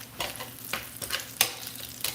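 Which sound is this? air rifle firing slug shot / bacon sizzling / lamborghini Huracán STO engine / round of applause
bacon sizzling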